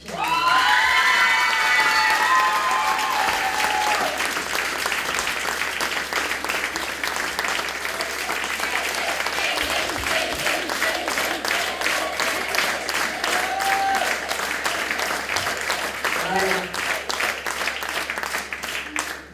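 Audience at a dance gala applauds a longtime dancer, sustained dense clapping from a large crowd with some cheers and children's shouts, loud at first and continuing steadily, with faint voices mixed in.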